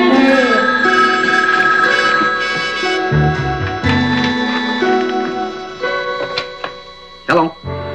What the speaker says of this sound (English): When the phone rings, answer it.